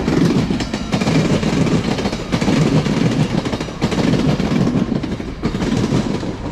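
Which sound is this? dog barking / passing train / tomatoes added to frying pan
passing train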